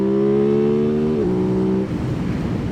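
Aprilia RS 660 motorcycle engine revving loudly and close, a steady high idle-to-rev tone that drops in pitch partway through, then settles into a rougher, lower engine rumble.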